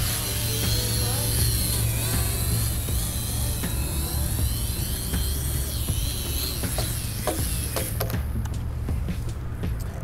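JT-63 quadcopter drone lifting off on automatic takeoff, its rotors a loud, high whine with shifting pitch that holds close and steady before easing slightly near the end.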